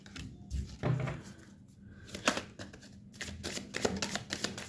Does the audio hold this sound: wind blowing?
no